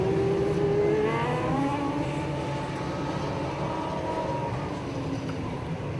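TQ midget race cars idle and creep forward on the starting grid at a New Zealand TQ championship final, a steady distant engine drone with a faint rising whine.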